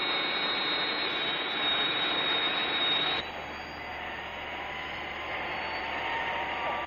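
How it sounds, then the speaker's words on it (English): A loud, steady jet engine roar fills the air, a broad rushing noise that shifts slightly midway but stays close and constant throughout. "There must be an aircraft in the vicinity."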